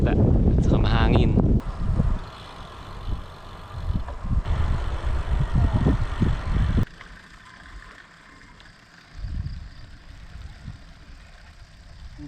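Strong wind buffets the microphone in the dark early morning at Subic, a heavy rumbling roar that eases later in the clip, with a voice speaking over it.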